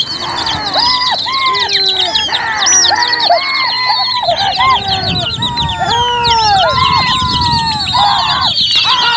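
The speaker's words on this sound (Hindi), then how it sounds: "ये 200 सामने वाले ग्रुप के कबूतर हैं," A flock of racing pigeons at a pigeon competition chirp and call at once in a busy, overlapping chorus, loud and close, with a rushing wingbeat-like noise rising toward the end.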